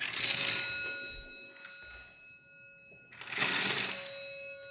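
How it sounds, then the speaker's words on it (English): A mechanical rotary doorbell on an old c.1890 house door gives two bright metallic rings, each a rattling bell burst lasting about a second, separated by a quiet gap, close and clear with no talking. "A rotary doorbell."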